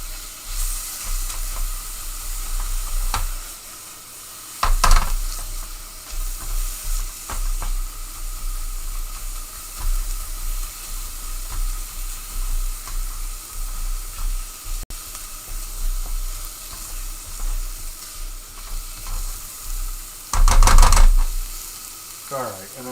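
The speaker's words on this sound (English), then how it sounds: "I'm gonna put the garlic in." Garlic sizzles steadily in a hot pan for chicken adobo, a continuous frying hiss broken by a few louder stirring scrapes, close and alone with no talk.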